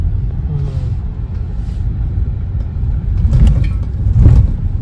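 A car driving to the airport gives a steady, close interior road rumble. The low drone holds throughout, with a few faint knocks and a slight swell near the end.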